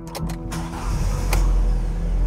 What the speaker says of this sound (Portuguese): Agora vamos ligar ele para ver como está a saúde do motor